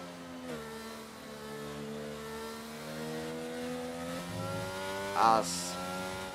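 A Formula 1 car engine at full throttle in the F1 22 racing game, a steady high-pitched drone with a shifting pitch that dips briefly around gear changes, rising and falling, with a sharp tone spike near the end.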